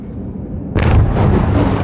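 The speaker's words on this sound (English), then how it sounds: "Moments later, explosions appeared over central Kiev." A distant explosion goes off over Kyiv during a night strike, one sudden heavy boom cutting through low rumbling background noise and then rolling on in a sustained roar.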